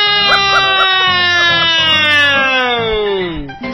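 A voice imitates a police siren, a long wailing tone that slowly falls in pitch, with other voices chattering underneath.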